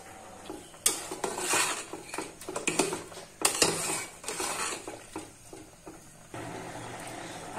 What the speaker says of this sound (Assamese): আজিও মই মোৰ পুৰণা কেৰাহীটো উলিয়াইছো